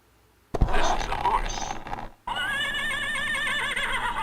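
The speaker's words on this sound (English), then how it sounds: "Dude, it's like there's a horse outside my window there." A horse neighs loudly and close by, a long wavering whinny that runs on for nearly two seconds after a burst of noisy commotion, heard through or near a window.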